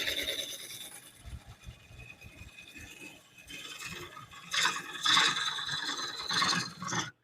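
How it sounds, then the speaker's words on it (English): Wood sanding on a lathe gives a soft raspy scraping with a faint rhythmic rubbing, growing louder and brighter in the second half, close up with no talk. "2 minutes of sanding."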